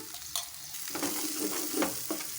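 Turmeric and ginger frying in a pan, a steady sizzle with a few scraping stirs of a spoon, close and continuous with no voices.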